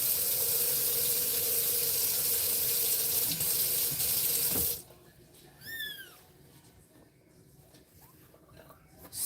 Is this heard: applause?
no